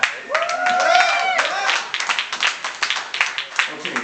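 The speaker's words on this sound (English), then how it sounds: "I think we should applaud that." A small crowd claps after free drinks are announced at a midday social. A voice speaks at the start, then the applause thins into scattered, uneven individual claps.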